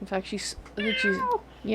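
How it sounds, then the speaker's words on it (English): A domestic cat in an office gives a single drawn-out, falling meow in the middle of the clip, close and clear, while a person talks before and after it. "That is the cat that you hear meowing in the office here."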